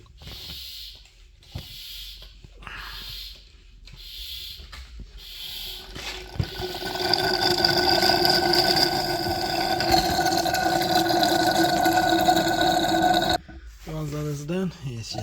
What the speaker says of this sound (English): then it'll suck out this brake fluid